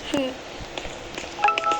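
Short electronic telephone dial tones from a Roblox game beep in quick succession, a few distinct pitched blips over faint background chatter.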